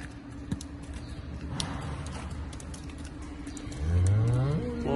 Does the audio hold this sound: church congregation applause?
no